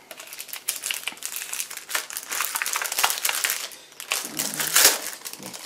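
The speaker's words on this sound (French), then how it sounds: "Je vais essayer de les déballer pour voir." Crinkly plastic wrapping being pulled and crumpled up close, a continuous rustle with sharper crackles, no talking.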